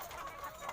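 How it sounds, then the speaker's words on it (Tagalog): Backyard chickens clucking softly at a rural provincial home, a faint, continuous low murmur of fowl calls with a few slightly louder peaks, no one speaking. "Maning mga manok-manok mani ni Ati Daday"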